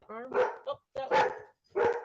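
A puppy barks three times in quick succession indoors, sharp and fairly close, each bark short with brief gaps, startled by a household noise.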